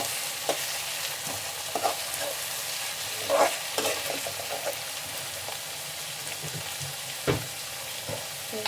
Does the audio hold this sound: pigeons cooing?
no